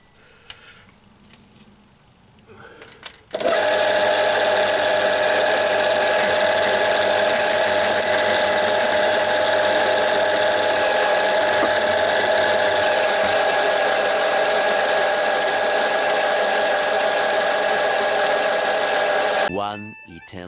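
A machine pecks a hole through metal while roughing out a new speedometer bracket for a Reliant 850 trike: after a quiet start, a loud, steady mechanical grinding and whirring runs unbroken for about sixteen seconds, then stops abruptly.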